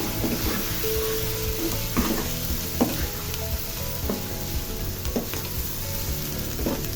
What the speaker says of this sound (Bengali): এখন আমি সবগুলো উপকরণ আবার একটু মিশিয়ে নিচ্ছি।